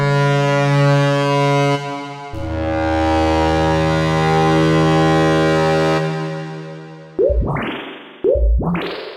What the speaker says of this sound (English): you can make non-attacking sounds, such as this in Massive X